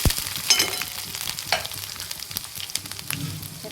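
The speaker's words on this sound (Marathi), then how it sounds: "आता यामध्ये मी कांदा टाकून घेते, कांद्याला छान कढून घेते लाल वाणाचं। त्याला परतून घेते।" Chopped onion frying in a pan for a cabbage curry, a steady close sizzle with occasional stirring scrapes and small crackles, no talking.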